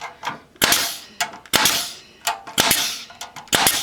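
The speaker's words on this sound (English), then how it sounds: "let's go ahead and staple in the rest of them here" A cheap heavy-duty pneumatic air staple gun drives staples into metal, firing five sharp, loud cracks with a mechanical clack at roughly even intervals, each followed by a brief hiss, with no talking.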